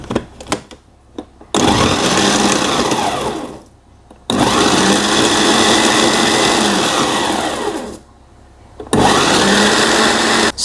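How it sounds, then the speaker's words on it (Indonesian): A blender coarsely grinding chili sauce whirs loudly in two long bursts with a short pause between, then starts up again briefly at the end; a coarse, steady grinding motor with no talking. "Saya blender kasar saja ya teman semua."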